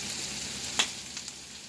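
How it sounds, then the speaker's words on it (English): Fajita chicken and shrimp sauté with cayenne in a pan, giving a soft, steady sizzle with a brief sharper crackle and a couple of faint clicks as the food is stirred. "you just let this saute a little bit"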